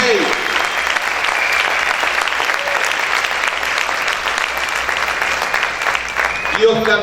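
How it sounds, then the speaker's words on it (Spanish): Loud, sustained applause from a church congregation fills the room, dense and even from start to finish, with voices calling out beneath the clapping. "Aplaude fuerte a tu Rey."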